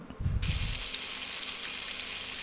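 Cinnamon, cloves, bay leaf and fenugreek hit hot oil in a kadai, bursting into a loud, close hiss after a brief low thud, then settling into a continuous sizzle.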